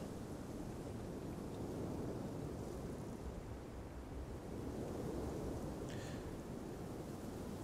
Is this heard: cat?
no